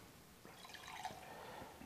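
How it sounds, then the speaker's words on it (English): Homebrewed extract bourbon stout poured into a glass, a soft liquid glugging and splashing lasting under two seconds, quiet and close. "So, ooh, a healthy pour."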